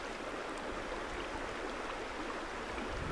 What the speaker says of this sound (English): Just the sound of the river taking you home